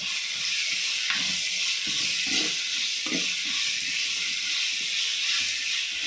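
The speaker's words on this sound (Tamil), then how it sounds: "அதுக்கப்புறம் நம்ம கருவேப்பிலை போட்டுக்கலாம்" Curry leaves and onion frying in oil for appalam kuzhambu, a constant close sizzle and hiss with intermittent soft scrapes of stirring in the pan.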